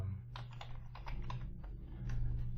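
Computer keyboard typing in a quiet room, with bursts of quick keystrokes in irregular clusters over a steady low hum, fairly close and moderately quiet, with no talking.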